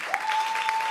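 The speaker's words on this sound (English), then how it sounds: "Clap your hands for Tamika Rutledge." Audience applause at a fundraising gala, a brief burst of clapping from the crowd with a faint steady tone running underneath.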